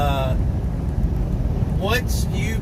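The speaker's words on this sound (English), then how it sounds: "it is windy" Wind buffets the microphone with a steady low rumble while a person talks over it.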